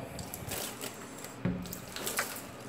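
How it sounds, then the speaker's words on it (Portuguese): Water is poured to rinse a glass shower enclosure, a steady splashing rush with a sharper splash partway through, heard alone without talk. "Agora eu vou jogar água, certo?"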